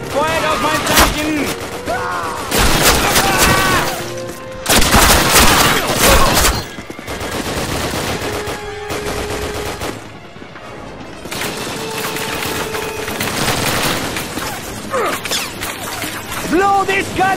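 Heavy gunfire in a Call of Duty battle, with bursts of rifle and machine-gun fire and booming blasts that come and go across the scene, mixed with shouted voices.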